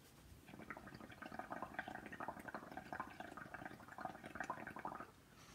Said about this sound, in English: So I can blow bubbles.